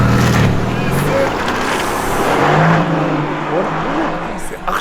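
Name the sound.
rear-wheel drive car accelerating hard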